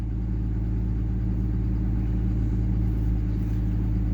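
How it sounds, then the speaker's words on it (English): A 5.9 common rail diesel engine running at high idle with a DPS Turbonator and S475 turbo, giving a steady, loud, continuous low rumble that holds unchanged throughout with no talk. "So I want to high idle it. So my engine RPM goes up"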